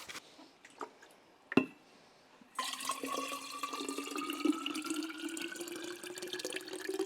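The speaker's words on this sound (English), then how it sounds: "Water pouring ASMR." After a few faint clicks and a sharp knock, water begins pouring at a steady stream, a continuous splashing flow with a slowly rising pitch as the container fills, fairly close and moderately quiet.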